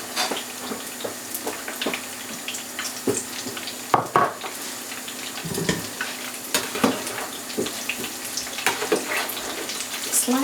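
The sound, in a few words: breaded rice balls deep frying in oil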